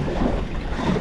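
A fishing boat engine drones steadily at low pitch in rough conditions, mixed with wind and water noise.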